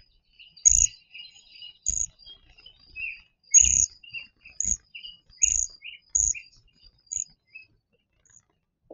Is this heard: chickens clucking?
no